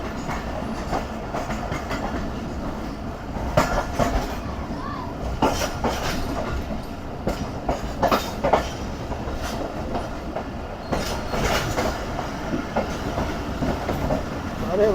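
The Sukkur Express, the Queen of Sindh, runs along Main Line 3 near a station, with a continuous close rumble of cars and repeated clickety-clack wheel beats over the rails.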